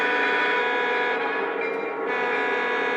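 A Lionel Santa Fe E8 model train engine runs with its bell ringing, giving a loud, steady, close tonal drone with no break across the whole stretch.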